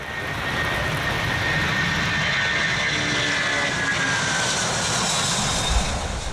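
A large aircraft roars steadily while rolling through standing water on a flooded runway during a heavy-rain landing test, its engine noise loud and continuous with a broad watery hiss throughout.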